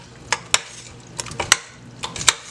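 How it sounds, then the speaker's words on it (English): Seasoned chicken with black pepper and garlic powder being stirred in a pot, heard as a handful of sharp, close scrapes and clinks of a utensil against the pot, spaced irregularly over a quiet background. "I'm just going to give it a stir."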